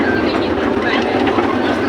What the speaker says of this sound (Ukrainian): вийдемо з цього поїзда